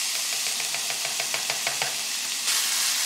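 A spoon scraping and tapping in a sizzling pan as sugar-free sweetener is stirred into hot oil, a string of quick knocks over a constant frying hiss that swells louder near the end, with no talking.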